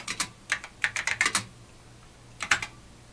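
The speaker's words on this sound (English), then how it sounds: "this keyboard is nicer, has a much nicer feel than the later" Keys clack on a Radio Shack TRS-80 Model 1 keyboard, a close, crisp run of quick irregular strokes that pauses briefly and then ends with a short final burst.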